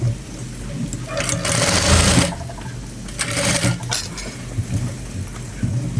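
Sewing machine stitching a uniform shirt, sewing about a quarter inch of fabric allowance, runs in bursts of rapid mechanical whirring with short pauses, close and fairly loud, with no voices.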